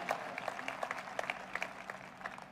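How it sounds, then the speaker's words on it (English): Sparse, light clapping from a small sermon audience, scattered claps overlapping softly without building into full applause. "you're clapping weakly, but I'll keep at it."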